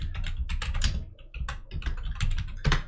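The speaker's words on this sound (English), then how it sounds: "basically you wanna just start typing in keywords for this product" Rapid typing on a computer keyboard, clusters of close, crisp keystrokes in quick uneven bursts with short pauses, alone and without speech.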